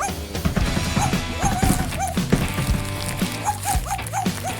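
Cartoon dogs in a brick-built pet game bark, yip and whimper in quick repeated bursts over lively background music and clattering knocks.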